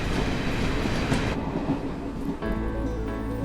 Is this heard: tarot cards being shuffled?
no